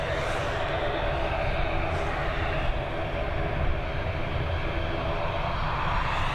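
An Aer Lingus airliner inbound from Nice goes around at Dublin Airport, its engines a steady, loud broadband roar that holds throughout without fading.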